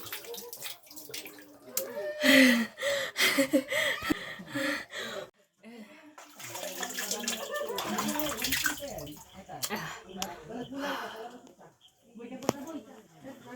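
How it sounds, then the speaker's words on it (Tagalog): Water flows from a natural spring at Sungkulan Spring in Libmanan, Camarines Sur, a steady splashing rush heard close, with people talking and laughing over it. "Ayan, tubig bukal."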